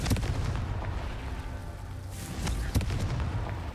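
Confringo blasting spells go off in Hogwarts Legacy as a few sharp booming bursts over a low rumbling game background, the strongest blasts landing near the middle and later in the stretch.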